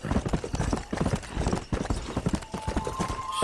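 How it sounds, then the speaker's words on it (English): Horse hooves gallop in Red Dead Redemption on PS4, a fast, loud, rhythmic clatter of close hoofbeats running steadily throughout. "this horse has barely any fucking stamina"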